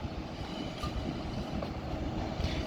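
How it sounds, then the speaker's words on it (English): A TransPennine Express train arriving from Edinburgh at Manchester Piccadilly gives off a steady, moderately distant rumble with faint squeals of wheels and brakes. "This train is Transpennine,"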